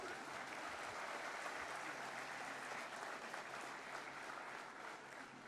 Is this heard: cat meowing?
no